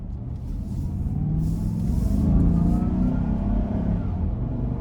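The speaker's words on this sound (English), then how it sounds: "Pretty good throttle response." A 2020 GMC Yukon SLT 2WD with a 5.3L engine accelerating, a steady low engine rumble building gradually heard from inside the cabin, with faint road noise.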